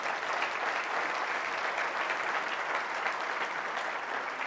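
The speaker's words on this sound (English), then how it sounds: "someone give them an applause" Crowd at a State of the City address applauding city employees, steady, fairly distant clapping that holds evenly without talk.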